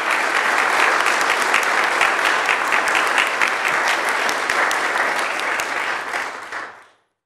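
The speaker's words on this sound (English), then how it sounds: "can I get a round of applause for all those folks wearing the green shirts?" Sustained audience applause at the Open Source Bridge 2012 conference in Portland for the volunteers in green shirts, a dense steady wash of many hands clapping for about seven seconds before quickly dying away.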